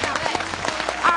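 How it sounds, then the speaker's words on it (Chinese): Studio audience applauding at a Beijing TV dating show, a brief steady patter of many hands with a voice talking over it. "再一次掌声"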